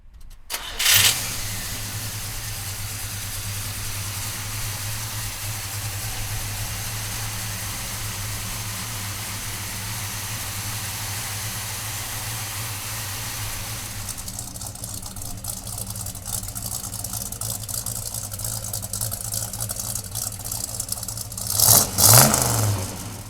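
A 1969 Chevrolet Chevelle engine cranks and catches with a loud burst, then settles into a steady, close idle for about twenty seconds before a brief hard rev near the end.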